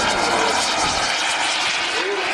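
A model aeroplane flies at an air show on a former RAF satellite airfield at Elvington, Yorkshire, its engine giving a steady, loud, continuous drone throughout.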